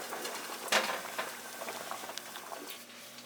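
Cooking water drains from a pot of soft, falling-apart food with a bubbling, pattering splash and a sharp gush near the start, then settles into a gentle trickle and spatter under a low kitchen hum.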